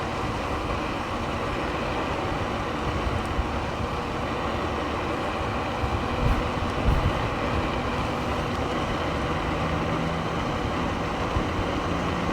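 An Actbest Cityrun electric bike ridden at full twist throttle gives a steady, loud rumbling roar of motion and wind noise that holds constant throughout, with small bumps of rattle along the way.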